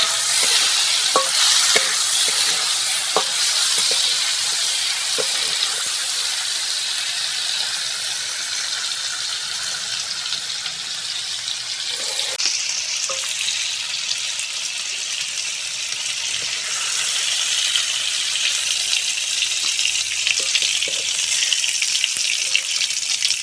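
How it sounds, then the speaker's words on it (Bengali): Potatoes for jhinge posto fry in hot oil with a steady, bright sizzle that runs throughout, broken by occasional stirring clicks and scrapes. "ওই তেলের মধ্যে ঝিঙে পোস্তর আলুটা দিয়ে দেবো।"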